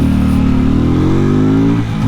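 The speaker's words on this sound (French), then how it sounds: "Je pourrais peut-être descendre d'un rapport pour grimper un peu jusqu'à 9000 tours minute" Archive Motorcycle AM Blackpearl custom motorcycle engine revving while climbing uphill, a loud, close, continuous engine drone rising gradually in pitch, then dipping briefly at the end, with no talking.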